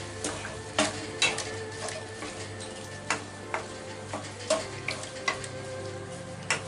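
Soybeans with ginger stirred in a pot, a spoon knocking and scraping in a steady rhythm of clear, close clicks over a soft simmering hiss, with no talking.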